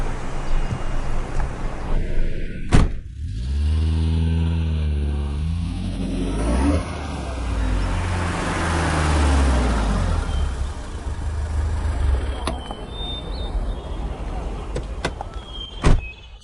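A luxury car door thumps shut, then the engine starts and rises into a steady run as the car pulls away, with a soft voice and another door thud near the end.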